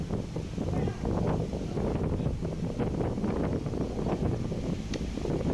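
Strong storm wind blows hard and constantly across a highway, a loud rushing roar with gusts that buffet the microphone, and faint voices are present.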